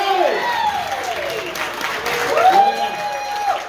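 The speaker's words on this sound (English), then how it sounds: "Round of applause," A live audience at a New York City show claps steadily, a broad wash of applause with whoops and cheering voices rising over it.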